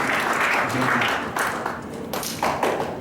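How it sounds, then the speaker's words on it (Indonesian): Church congregation clapping to welcome a reverend to the pulpit during a Sunday praise and worship service, a steady mid-level round of applause with some speech-like murmur mixed in. "sambut beliau dengan tepukan tangan"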